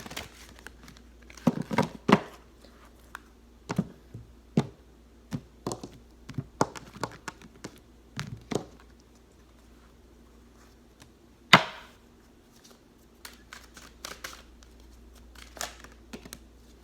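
Cards are shuffled and handled for a reading: a series of sharp, close riffling snaps and taps in irregular bursts, with quieter gaps between and one louder slap partway through.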